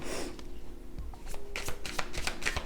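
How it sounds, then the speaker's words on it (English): Close hand shuffling of a tarot deck, starting with faint rustle and building into a quick series of crisp card snaps and flutters, quiet and without speech. "One more good shuffle."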